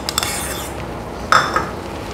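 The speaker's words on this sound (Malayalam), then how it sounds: "ആ ഫൈവ് മിനിറ്റ്സും കൂടി ഇളക്കാം" A spoon clinks and scrapes against a pan as Bombay Karachi halwa is stirred with ghee, giving a few sharp metallic knocks and one brighter clink midway over a quiet background.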